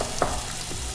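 Sliced shallot browning in a hot pan gives a brief, close sizzle with a light stirring scrape, lasting about one second with no voices.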